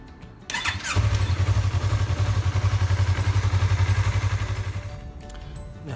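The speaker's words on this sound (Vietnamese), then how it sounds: "Chúng ta phải nổ máy lên một chút cho nhớt nó ấm" A Yamaha MT03 motorcycle, left standing since the night before, starts up with a short crank and settles into a steady, loud idle of rapid even pulses close by, then cuts off near the end.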